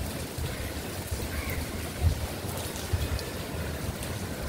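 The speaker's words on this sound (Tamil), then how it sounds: "கடல் பொங்கி வருகின்ற அற்புதமான காட்சி பார்க்கிறோம்." Sea waves surging and crashing on the shore at Murdeshwar, Karnataka, a steady loud wash of surf with occasional heavier booms, no voices.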